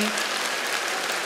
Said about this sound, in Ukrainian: А поаплодуйте, хто зараз закохані.